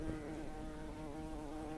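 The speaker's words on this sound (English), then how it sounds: "I can buzz like a bee." A steady insect buzz, bee-like, holds constant and fairly loud throughout the short clip with a dense harmonic drone and no pauses.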